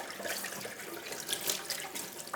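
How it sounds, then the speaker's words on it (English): Leek leaves rinsed one by one under a running kitchen tap, a steady close splash of water hitting the leaves and sink basin with slight shifts as the leaf moves, no talking. "Now the main thing is you just take your leaf and just wash everyone."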